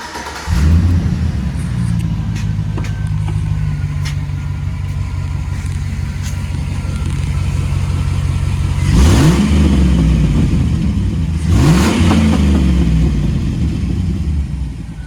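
A 2006 Chevrolet Silverado with a small glass pack muffler stuffed into its exhaust pipe idles with a deep, droning rumble, then revs sharply twice near the end, each blip rising and falling quickly.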